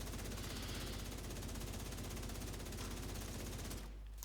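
SMG gunfire in the video game The Division 2, a fast, steady stream of rapid shots held for several seconds at fairly even loudness before cutting off abruptly.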